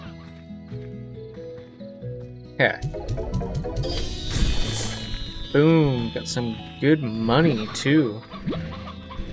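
Hens clucking in the farming game Slime Rancher, many birds giving repeated short clucks and squawks at close range, mixed with other game noises while someone talks over them.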